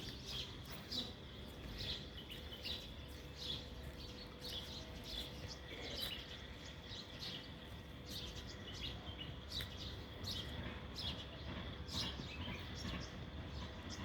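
House sparrows chirp busily and repeatedly, a steady scatter of short tweets at moderate distance over a faint background hum.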